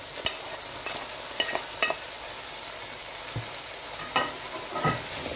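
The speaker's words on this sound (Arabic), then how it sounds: "بس هننزلها تتشوح مع البصل." Diced potatoes, carrots and bell peppers sautéing with onion in a pan, giving a soft, steady sizzle. Scattered spoon scrapes and stirring clicks sound at close range with no talking.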